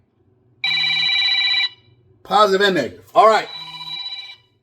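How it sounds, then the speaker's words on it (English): An electronic telephone rings with a steady sustained trill, then someone speaks briefly before the ring resumes more faintly underneath his voice, close and fairly loud. "Sorry about the phone ringing."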